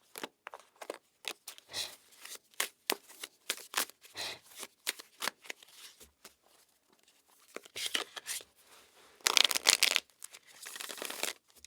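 A deck of tarot cards is shuffled close by in quick riffling bursts and soft slides separated by short pauses, with a louder, denser flurry near the end.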